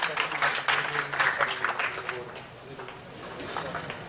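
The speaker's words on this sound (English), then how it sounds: "A bigger round of applause, ladies and gentlemen." A conference audience at an electronics session applauds a managing director: a full burst of clapping that fades after about two seconds, leaving scattered claps and faint murmuring.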